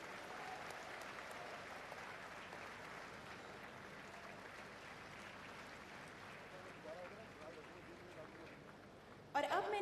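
Steady applause from a large audience greets Prime Minister Narendra Modi at the tenth World Hindi Conference, sustained and even throughout, with a sharper burst right at the end.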